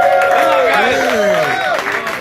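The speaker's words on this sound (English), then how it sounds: "Let's cheer these guys on." A crowd of spectators cheers and shouts encouragement for competitive eaters at a French fry eating contest at a backyard grill, with loud overlapping voices rising and falling continuously.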